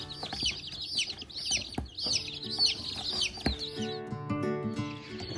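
Baby chicks in a brooder, busy high-pitched peeping and chirping close to the microphone, with soft clucks and scattered knocks and rustles underneath.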